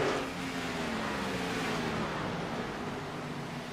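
Race cars of the Geezer Authentics 113 at Nashville roar around the track in a steady, continuous engine drone with shifting pitch, no talk over it.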